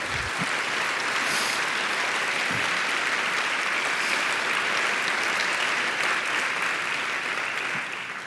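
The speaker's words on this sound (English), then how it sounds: "I want us all to give them a big round of applause" A large audience gives a big round of applause at a business association's annual chairman's address, dense, steady clapping that holds at full strength for several seconds before tapering slightly at the end, with no voices.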